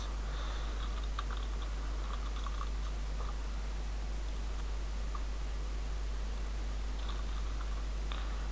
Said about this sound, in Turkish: E-posta adresimi yazıyorum.